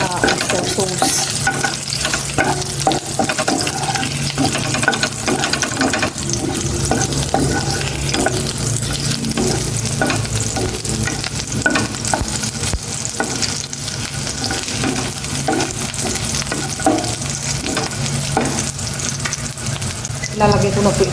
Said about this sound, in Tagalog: Ginsang, sitaw, sa oyster sauce.